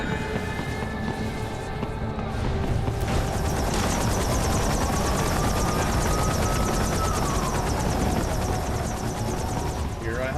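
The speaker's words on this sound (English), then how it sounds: "Here a helicopter." A helicopter in the video game Metal Gear Rising: Revengeance thrums steadily and loudly with a rapid rotor chop, blending into a dense wash of game noise that holds at a constant level throughout.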